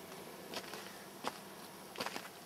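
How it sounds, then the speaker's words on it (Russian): Mosquitoes buzz around by a roadside in June, a constant whining drone of many insects close to the ear with a few louder passes, no voices. "комары съели."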